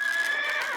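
A horse whinnies in one sustained, loud, close call with a bright wavering pitch, heard alone.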